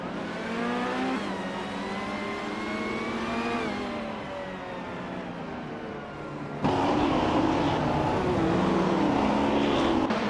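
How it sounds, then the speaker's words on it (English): Race cars accelerating at the start of a race, engines revving with rising and falling pitch, a steady loud roar that jumps louder midway as another car passes close. "The race has just kicked off with Scuderia Veloce taking the lead, followed closely by Maya in second place and Zeisitter in third."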